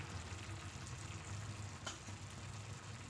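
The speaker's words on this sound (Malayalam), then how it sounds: "ആ ടൊമാറ്റോ ഒഴിച്ച മിക്സ് ഇതെല്ലാം കൂടെ നന്നായിട്ട് തിളച്ച് വരുന്നുണ്ട്." Tomato masala mixture for an okra curry bubbles and sizzles quietly in a pan, a soft steady simmer with one brief tap near the end.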